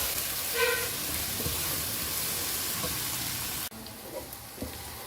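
Onion, green chilli, ginger and garlic sautéing in oil for a chicken dum biryani, a steady close sizzle and fry hiss with faint stirring scrapes, cutting briefly before the frying continues.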